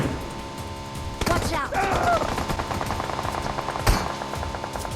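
Gunfire in PUBG Mobile, a couple of sharp, loud shots at around one second and another crack near four seconds, with ongoing game noise and a faint voice in the background.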